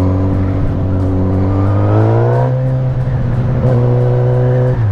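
A Suzuki GSX-S 1000 motorcycle with a 145 hp engine revs loudly up close. Its pitch climbs, then holds at a steady high drone, and a second rise comes near the end.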